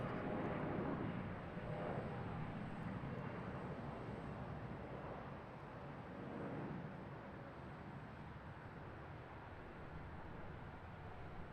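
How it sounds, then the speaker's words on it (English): A CRJ jet departs Charlotte airport with a broad, distant roar that swells, then slowly fades and lingers as a low rumble, with no voices. "Another good sounding departure. I think this one's CRJ."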